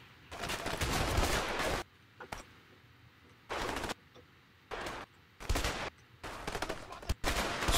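Shotgun and Uzi fire in A Way Out, loud separate bursts of shots broken by near-silent pauses, a long burst first and then several shorter volleys.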